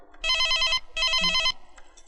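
Old-style telephone bell ringing in two loud, close bursts of electric trilling separated by a short pause, with no one talking over it.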